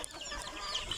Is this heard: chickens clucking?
yes